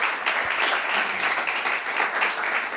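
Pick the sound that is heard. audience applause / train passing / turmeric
audience applause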